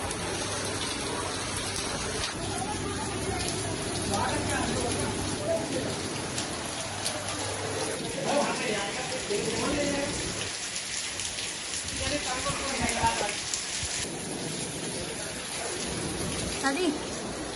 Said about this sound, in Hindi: अभी देखो कितनी तेज बारिश आ गई है